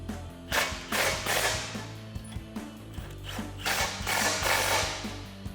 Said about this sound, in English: tighten up our bolts using our 18 millimeter socket